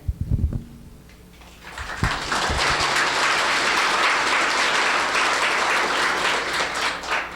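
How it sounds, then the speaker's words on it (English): Audience at an arts awards ceremony breaking into applause: a few loud thumps first, then dense, sustained clapping that swells and holds steady across the room. "Thank you for the round of applause."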